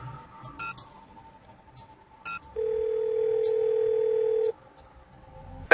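In a Nancy Drew video game, a telephone call rings: short dial tones and clicks, then a long steady ring tone held for about two seconds, clear and isolated.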